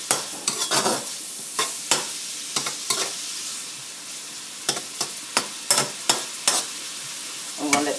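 Butter sautéing in a pan for Haitian stew fish (pwason gros sel): a steady close sizzle broken by frequent sharp clinks of a utensil stirring against the pan, with no talking.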